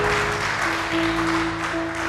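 A church congregation at a Sunday service clapping and cheering in acclamation, a dense steady wash of applause with a sustained organ or keyboard tone held underneath throughout.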